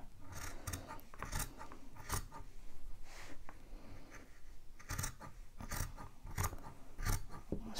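Scissors snip repeatedly along the fabric edge of an in-the-hoop machine-embroidered Christmas treat bag, a steady series of close crisp cuts with light rustling of the material between them.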